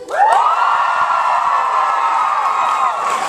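Audience at a VidCon panel screaming and cheering, a loud, sustained, high-pitched wave of many voices that swells quickly and holds for several seconds, close and dense.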